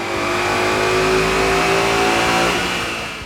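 A 2015 Ford Mustang GT with a six-speed manual and a 93 octane race tune revs hard on a dyno, its engine roaring loud and steady as it climbs through the run, with no talking.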